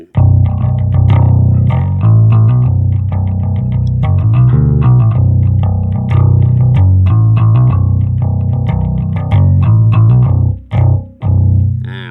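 Bass guitar through a TANK-B pedal with an impulse response loaded plays a steady, punchy riff of loud, thick, slightly gritty notes for about ten seconds, ending with a couple of short stabs, with no talking.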